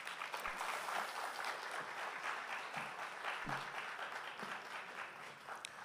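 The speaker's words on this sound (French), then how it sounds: "Merci de l'accueillir avec des applaudissements." Audience at a formal opening session of a central bank event in Haiti breaks into applause to welcome a speaker, a steady wash of many hands clapping at moderate distance, fairly soft, with no talking.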